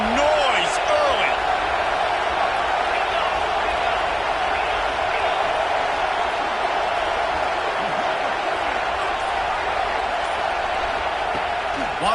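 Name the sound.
stadium crowd noise in College Football 26 video game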